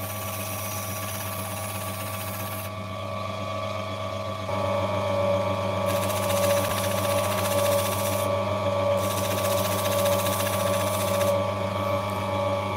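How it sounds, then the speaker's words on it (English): Gem Master opal cabbing machine running with its grinding wheel, giving a loud, steady motor whine and hum that grows louder partway through, with bright hissing grinding noise coming and going. "it is a Gem Master"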